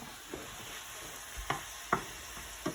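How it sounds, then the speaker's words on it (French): Minced meat cooks in a pan with a quiet, steady sizzle, punctuated by a few soft scraping taps from stirring, close by and with no talking. "ma viande est en train de cuire"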